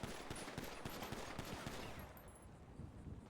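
Rapid gunfire as a pistol magazine is emptied at close range on a police academy shooting range, a dense run of sharp loud shots for about two seconds before it stops and the range falls quieter.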